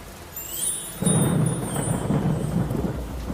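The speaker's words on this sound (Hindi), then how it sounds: "बारिश अब भी रुकने का नाम नहीं ले रही थी।" Heavy rain pours down in a steady hiss as thunder rumbles low, swelling louder after a moment, with a few faint high tones drifting above the storm; no voices.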